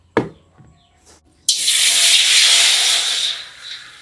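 Water pours into a cooking pot for soup, a sudden rushing hiss that starts after a couple of soft knocks and runs steadily for about two seconds before easing off.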